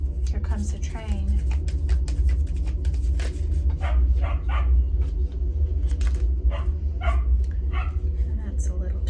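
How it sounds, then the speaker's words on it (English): A Cocker Spaniel barks in bursts of sharp yips and whimpers as a long train rumbles steadily underneath, with a person talking over parts of it. "My Cocker Spaniel barks at the train."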